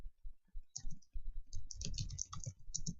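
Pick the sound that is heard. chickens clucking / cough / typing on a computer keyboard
typing on a computer keyboard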